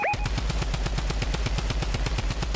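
Drum gun in the Fortnite video game fires a long, fast, steady burst of rapid automatic shots, loud and close, with no talking over it.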